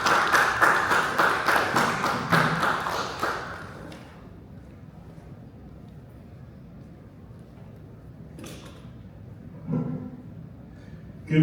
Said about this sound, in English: At this time, please give a round of applause and welcome Mr.